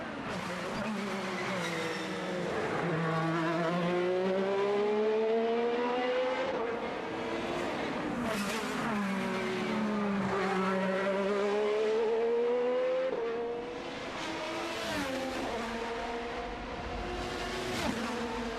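IndyCar race cars on qualifying laps at the Long Beach street circuit, engines droning steadily and shifting pitch as they accelerate and brake, sustained and moderately loud with faint background commentary.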